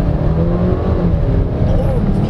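A 2024 Hongqi H5 40TD accelerating hard in e-sport mode gives a steady, loud, low engine drone from inside the cabin, holding its pitch with a slight rise across the run.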